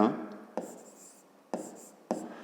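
Pen or chalk writing by hand during a Grade 5 geometry lesson, a quiet continuous scratch broken by three sharp taps as new strokes begin.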